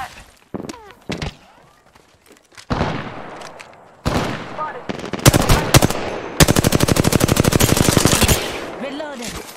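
Rapid automatic gunfire from an R-301 and R-99 in Apex Legends on PC, long loud bursts and scattered single shots close by, with brief in-game voice callouts between volleys.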